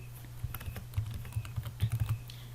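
Steady typing on a computer keyboard, with quick clustered keystrokes clicking close by and no voices.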